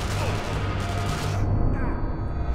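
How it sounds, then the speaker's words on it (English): Rapid bursts of gunfire and booming explosions from the video game Sniper Elite V2, Mittelwerk Facility level, dense and loud, then cutting off abruptly midway with quieter rumbles after. "Explosions."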